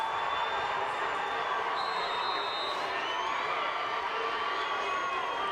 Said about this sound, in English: The crowd is hype.